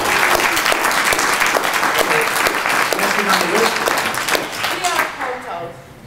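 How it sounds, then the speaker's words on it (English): An audience at a Toastmasters training session claps for the development team, a loud, close, steady burst of many hands that thins and fades toward the end. "A little applause for the development team."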